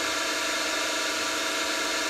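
An Optimum MB4 milling machine spindle turns at 580 RPM, giving a steady, close mechanical whir with a constant hum and no voices.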